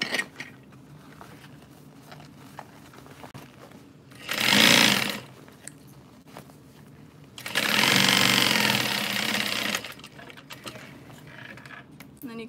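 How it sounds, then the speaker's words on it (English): A sewing machine stitches a custom backpack closed in two bursts of fast, buzzing, mechanical whirring, one short and one longer, close and loud against quiet room background with small handling noises between them. "And we're gonna sew that closed."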